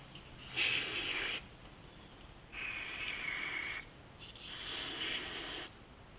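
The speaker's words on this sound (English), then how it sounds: "Give this just a little light spray down." Three separate bursts of aerosol spray hiss close by onto the carburetor of a Briggs and Stratton 550EX engine, each lasting about a second, with short quiet gaps between them.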